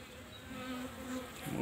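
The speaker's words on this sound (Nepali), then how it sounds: "मौरी त यो भित्र हाँगामा अझै रहेछ नि तल" Honeybees brought in on a hive branch from the forest hum in a steady, close, soft buzz, with the pitch rising and falling slightly as individual bees move about.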